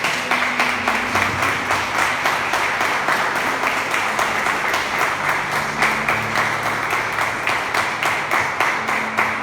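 A church congregation applauds for about nine seconds, many hands clapping in a dense, steady patter with faint sustained tones underneath.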